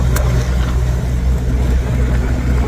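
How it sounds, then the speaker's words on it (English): An MG Midget sports car drives along with a steady low engine drone and road rumble, close and continuous throughout with no pauses. "Driving along in my automobile."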